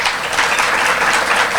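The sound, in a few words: applause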